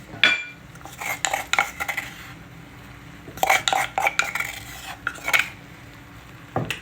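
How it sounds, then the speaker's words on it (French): Garlic being crushed for an okra and sorrel stew with smoked fish, heard as several bursts of metallic scraping and clinking against a pot or bowl, separated by quiet pauses, with no talking. "Et je vais rajouter mon ail écrasé. Je vais écraser."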